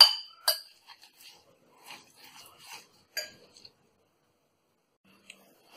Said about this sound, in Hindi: और अब इसे अच्छे से मिक्स करना है हमें